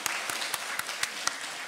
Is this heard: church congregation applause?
yes